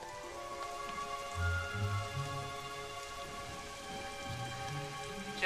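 Rain pours down during a storm in the film A Thousand Words, a steady patter on surfaces with soft low rumbles swelling briefly, continuous and close, with no talk.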